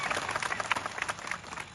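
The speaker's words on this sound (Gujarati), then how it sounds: "આપણે સૌ એમના માટે એકવાર જોરદાર તાળીઓ પાડી લઈએ" A crowd at a birth anniversary celebration for Jaipal Singh Munda in Sabarkantha gives a brief burst of applause. Many hands clap in quick, uneven bursts at moderate distance.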